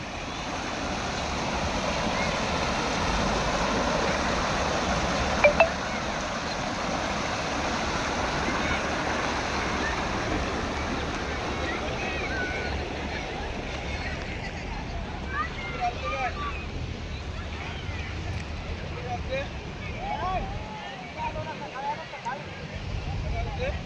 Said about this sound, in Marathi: पाण्याचाही तुम्ही आवाज ऐकू शकत असाल तर नक्की ऐका